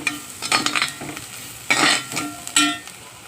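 Onions fry in a little oil for a meal maker masala curry; a spatula scrapes and clatters in the pan in short bursts, each bringing a sharp hiss of sizzling, up close with no talking.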